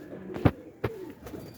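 A teddy pigeon coos close by, two low throaty calls with a fainter third, separated by brief pauses over quiet background.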